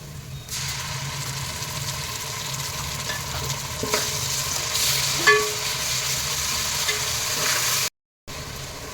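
Ginger garlic paste fries with onions in a pan, a steady close sizzle with occasional stirring scrapes and clinks, briefly cutting out near the end.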